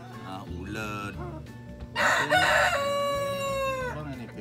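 Chickens on a Kentucky homestead in Prestonsburg, with a rooster letting out a loud, close, drawn-out crow after a few shorter squawking calls, over a low background hum.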